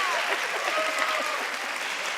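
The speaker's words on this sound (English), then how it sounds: "Keep clapping, a little louder is always good here." A studio audience claps steadily and densely for about two seconds, a continuous even wash of applause with a faint voice underneath.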